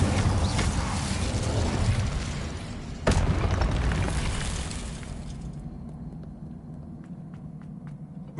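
An Incendio fire spell in Hogwarts Legacy bursts with a dense roaring blast and a sharp crack midway, then the whoosh fades into softer game ambience.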